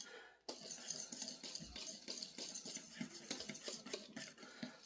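A whisk beats ingredients for pumpkin bread in a bowl with quick, continuous rhythmic clinks and scrapes against the sides, close-up and fairly quiet, with no talking.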